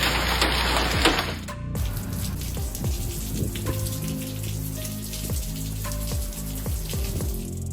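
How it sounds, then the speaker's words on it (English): Hail pours down from a darkening sky in a sudden storm, a dense, steady patter of hard pellets striking surfaces nearby, with sharp crashing impacts recurring throughout and a brief louder burst near the start. "white hail suddenly poured down from the darkening sky"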